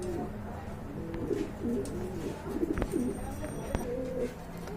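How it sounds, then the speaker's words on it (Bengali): A pair of big black-and-white magpie pouter pigeons coos in soft, repeated throaty phrases, close by and steady over a low background hum. "এখানে দেখতে পাচ্ছেন আলেক জোড়া কোয়ালিটি ফুল বিগ সাইজের পোটার কবুতর"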